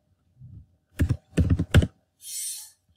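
A few quick keystrokes on a computer keyboard, clicking in short clustered bursts against near silence, close and clear.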